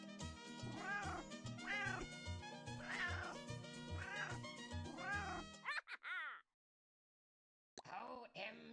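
Cartoonish cat meows in the Exploding Kittens video game, a rhythmic run of repeated meows set over a beat, then a few drawn-out meows, a brief silence and one more at the end.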